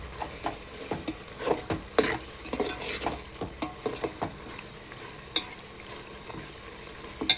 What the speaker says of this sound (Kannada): ನೋಡಿ ಎಷ್ಟು ಚೆನ್ನಾಗಿ ಫಳವಾಗಿ ಮಸಾಲೆ ಕುದೀತಾ ಇದೆ ನೋಡಿರಿ ಫ್ರೆಂಡ್ಸ್